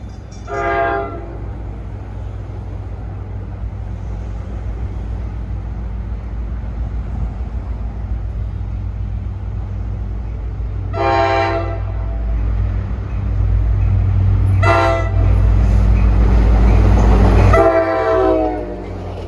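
NJ Transit train 55 from Hoboken to Port Jervis passing near, blowing several separate horn blasts over a heavy, building rumble of wheels and braking.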